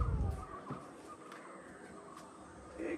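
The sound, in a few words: birds calling outdoors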